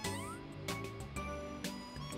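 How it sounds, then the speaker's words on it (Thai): A cat meows in the video game OMORI, a few drawn-out, tonal meows over quiet background game music, with no voices. "แมว"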